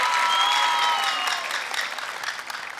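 A studio audience claps loudly and steadily, the applause thinning out toward the end, with faint whistles at first.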